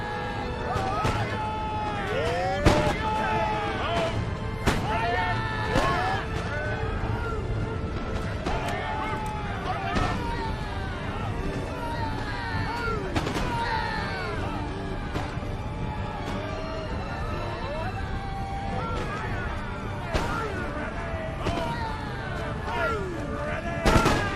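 Scattered booms and cracks of battlefield gunfire in Empire: Total War, with artillery firing canister at a gate amid musket volleys. Irregular reports, near and far, continue throughout under dense battle ambience and a voice.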